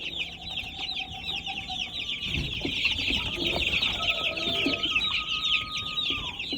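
Chickens on a poultry farm cluck and chatter steadily, many birds close by forming a dense continuous flock noise, with a few longer calls rising above the din.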